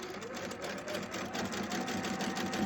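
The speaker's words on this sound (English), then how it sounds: "I'm just going to sew" A sewing machine runs steadily on a quarter-inch quilting seam for a table runner. The motor gives a continuous, even whir with a fast, regular stitching rhythm, close but fairly quiet, and no one talks.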